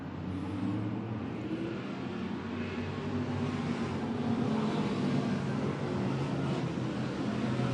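Factory stock race cars roar around Penncan Speedway, a dense, steady engine drone from the pack carrying at a distance without a break.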